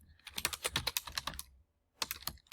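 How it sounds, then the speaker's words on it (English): Fingers type on a computer keyboard in quick clustered keystrokes, a pause of half a second, then another short burst, close and fairly quiet with no voices. "It's hard to type on this keyboard"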